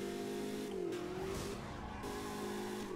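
Car in the Burnout Paradise video game drifting, its tires squealing in sliding tones over a steady engine roar, loud and close for a few seconds.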